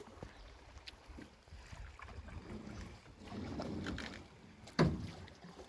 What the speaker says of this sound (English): Here we go, going down the rapids.